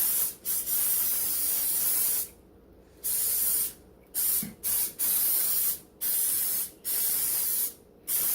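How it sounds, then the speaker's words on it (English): Repeated hissing bursts of aerosol cooking spray onto a baking pan, some long and some quick, separated by brief silent pauses, close up with no talking. "let's spray our baking pan"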